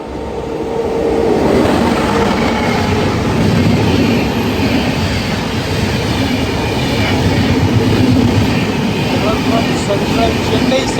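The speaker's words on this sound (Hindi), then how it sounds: "चेन्नई सेंट्रल AC सुपरफास्ट, इसको सुपर AC बोलते हैं।" A Chennai Central AC Superfast train rolls past in Kerala, a loud, continuous roar of rail noise and rumbling wheels that holds steady throughout.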